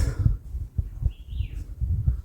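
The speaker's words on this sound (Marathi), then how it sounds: "फक्त बारीक बारीक पक्ष्यांचा आवाज येतोय" A small bird gives a faint, brief high trill from somewhere in the distance, set in quiet mountain forest on a Sahyadri trek to Bhairavgad fort near Moroshi. Soft low thumps and rustles sit underneath.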